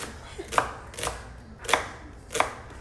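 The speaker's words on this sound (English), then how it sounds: "I've been slicing my onions this way for salads" A knife slices onions thinly for a salad dressing: four crisp, close chops land at an uneven, unhurried pace, each a sharp snap over a quiet room with no talking.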